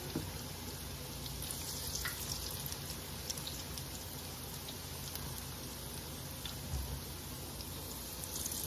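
Akara bean fritters fry in hot oil with a continuous crackling sizzle, sprinkled with small pops and spits, steady and moderately quiet throughout.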